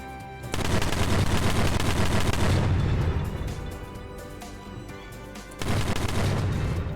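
Dense, continuous video-game gunfire in a chaotic zombie fight, the rapid shots blurring into one loud roar that eases slightly midway and then surges again, with no voices over it.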